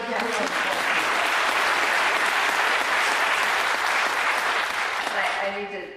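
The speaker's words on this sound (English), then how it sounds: "her a round of applause" A town hall audience applauds a speaker, Representative Orwell, with dense, steady clapping that holds at full strength for several seconds and then tapers off at the end.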